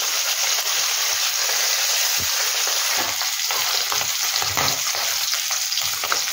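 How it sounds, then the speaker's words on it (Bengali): Amudi freshwater fish frying in oil for a Bengali mustard-paste dish, a loud, constant sizzle with soft stirring and scraping sounds scattered throughout. "এইভাবে আমি সব মাছগুলোকে ভেজে নিই।"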